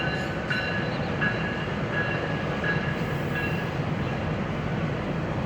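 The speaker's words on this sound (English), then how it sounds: "All right, looks like we got the GO train." A GO commuter train rolls past near Guelph Station in Ontario, a steady loud rumble of rail cars with clickety-clack and faint wheel squeal throughout, no talking.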